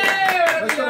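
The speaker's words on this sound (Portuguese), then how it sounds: "Palmas pra Yanxi!" Clapping for a drag performer on a Brazilian talk show, dense and steady, mixed with voices talking over it.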